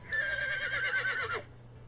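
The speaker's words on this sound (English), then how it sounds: "I hear a horse neigh." A horse neighs in a video game: one clear, wavering whinny lasting over a second, fairly loud over a steady low background hum, then trailing off.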